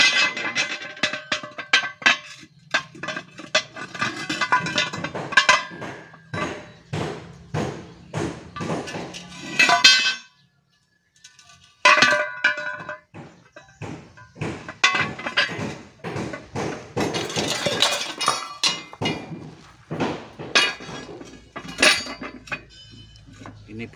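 Repeated metallic hammer strikes on a steel plate driven in to free a Toyota Innova front wheel bearing, sharp ringing clanks in irregular bursts with a short pause midway, close and loud.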